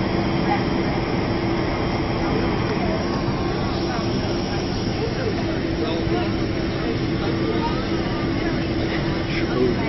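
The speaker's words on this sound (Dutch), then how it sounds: "Dat is een radarvliegtuig." A US Air Force radar aircraft passes overhead, a steady, broad roar that holds evenly for about ten seconds, with voices faintly audible underneath.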